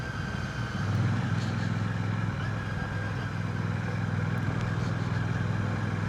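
A 2025 Royal Enfield Classic 650 rolls along in second gear with the throttle off at about 20 mph, its engine giving a steady low rumble with a soft even drone under wind noise.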